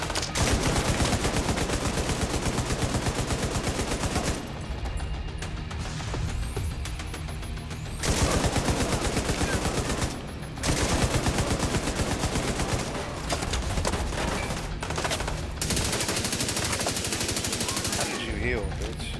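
Light machine gun fire in The Division 2 Warlords of New York, loud sustained automatic bursts in long rattling runs separated by short pauses, with game effects beneath.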